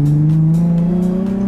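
Nissan 350Z being drifted, its engine holding a loud steady high drone with a continuous tire squeal layered over it, close and sustained throughout.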